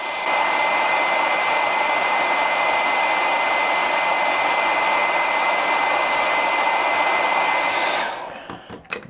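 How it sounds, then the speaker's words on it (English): A hair dryer runs loud and steady for about eight seconds, held at a distance to warm and soften the plastic of an action figure being repaired, then switches off and winds down. "hairdryer method. So you don't want to put contact on it. You just want to keep it at a distance. All we got to do is heat that up"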